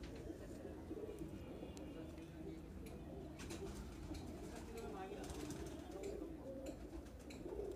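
Madrasi pigeons coo in a steady low murmur, several birds close by, while someone talks over them throughout.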